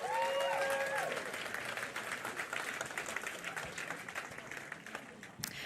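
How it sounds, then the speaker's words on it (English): Audience at a presentation breaks into a round of applause, moderately faint and steady clapping that tapers slightly, with a brief tonal sound near the start. "So to all of those people, let's give everyone a round of applause."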